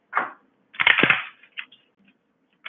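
Tarot cards being shuffled by hand, a few short papery riffles and flicks separated by silence, close and alone.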